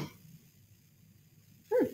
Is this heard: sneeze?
yes